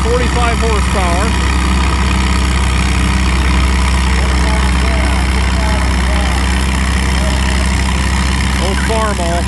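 An old Farmall Super A narrow-front tractor engine idles with a steady, loud, low rumble throughout, while someone talks over it.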